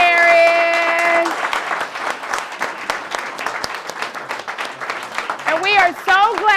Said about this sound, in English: clap it up everybody. one more time for Mr.